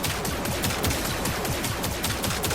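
Turrets open fire in the video game Warframe, a dense, continuous clatter of rapid overlapping shots that keeps a steady, loud pace throughout.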